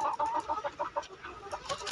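Several chickens cluck and a rooster calls in a rapid, overlapping run of short bird notes, fairly close and steady throughout, with no talking.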